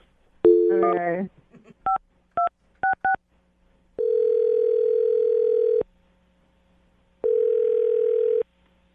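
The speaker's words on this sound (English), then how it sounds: "I'm dialing his phone number right now." A short spoken word, then several telephone keypad tones in quick succession, followed by two long ringback tones separated by a pause.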